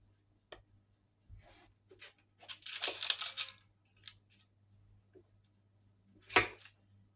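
Scissors cutting through a food preparation, several crisp snips spaced irregularly in a quiet room, with one denser cluster of cuts in the middle and a sharp final snip.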